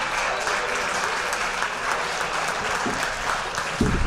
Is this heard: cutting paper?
no